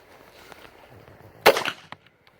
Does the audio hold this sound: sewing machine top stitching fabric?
no